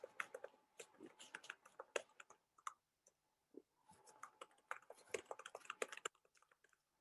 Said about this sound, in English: them typing classes pay off